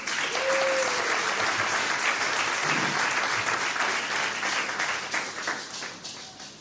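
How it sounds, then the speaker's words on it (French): Wedding guests applaud the newly married couple during a church ceremony, a dense, steady wash of clapping from a crowd that holds strong and then tapers slightly near the end, with a brief whistle-like tone early on. "Nous pouvons les acclamer."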